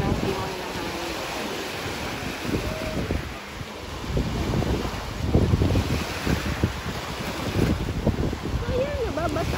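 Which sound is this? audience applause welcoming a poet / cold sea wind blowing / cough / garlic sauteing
cold sea wind blowing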